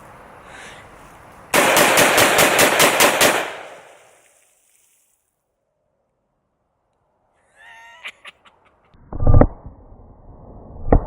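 A Desert Eagle .357 Magnum pistol fired rapidly, a tight burst of about eight loud, close shots in quick succession. The shots fade into quiet, followed by scattered clicks and a few low thumps.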